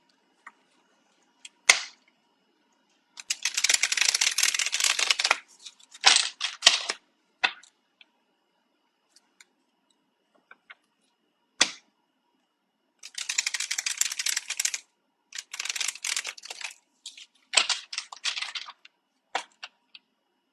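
Tarot cards being shuffled, in bursts of crisp riffling and flapping separated by silences, with scattered single taps and snaps between the longer shuffles.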